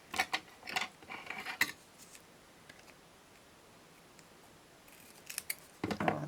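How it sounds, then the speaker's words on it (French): Scissors snip through washi tape and paper for a card project, a few quick crisp cuts at the start and again near the end, close and fairly loud, with a quiet gap between. "Oh là là, ce bruit de ciseaux"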